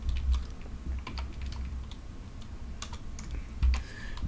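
Computer keyboard typed on while entering install commands, a steady run of soft rapid key clicks over low background hum, fairly close and moderately quiet.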